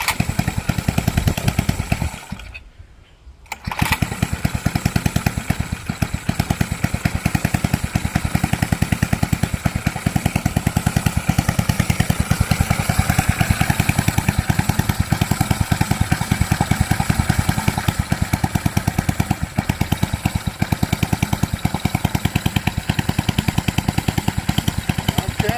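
Ruttman mini bike engine idling steadily after its idle was turned up, a continuous close putter broken by a brief dip near the start, then running evenly throughout.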